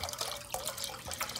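Red wine poured into a pot for Norwegian mulled wine (gløgg), a steady liquid stream with splashing and small drips throughout, close and moderately loud, no talking.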